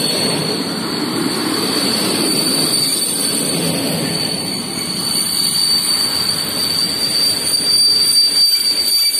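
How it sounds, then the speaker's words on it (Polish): An Intercity passenger train hauled by an EP07 electric locomotive rolls into a Polish station with a loud, continuous roar and rumble of wheels on rails, plus a steady high whine throughout. "Wjeżdża pociąg Intercity Orzeszkowa, relacji Szklarska Poręba Górna Białystok."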